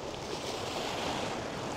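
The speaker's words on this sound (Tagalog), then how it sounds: "Maalon yung dagat ngayon guys." Rough sea waves wash in at night at Ilsan Beach in Ulsan, South Korea, a steady, even roar of surf mixed with wind, with no voices.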